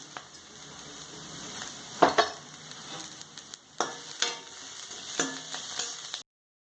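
Ingredients for paneer fried rice sizzle gently in a pan while a utensil stirs and scrapes it in irregular sharp clinks, close up and without talking.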